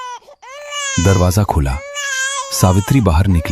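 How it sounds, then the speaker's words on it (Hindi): A newborn baby cries in a dramatized Hindi horror story, wailing in two bursts, close and loud, while a voice narrates alongside. "बस बच्चे की पहली रोने की आवाज गूंजी।"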